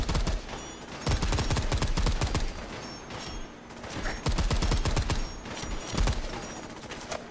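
Gunfire from a weapon in Fallout 4, rapid bursts of sharp shots in clusters with brief pauses between volleys, loud and close against an outdoor game ambience.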